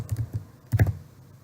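A short burst of computer keyboard typing, a handful of quick close-up key taps in two small clusters.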